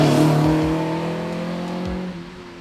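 A non-cat Euro-spec BMW E30 M3 engine runs loud and close, its harmonic drone holding steady with brief throttle dips and a slight fall in pitch toward the end.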